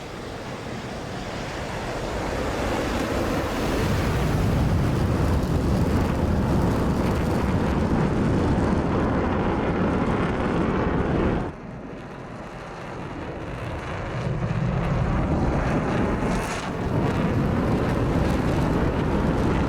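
An F-16 fighter jet in the DCS flight simulator takes off from runway 28. A loud, steady broadband engine roar dips briefly midway, then surges back, with no speech.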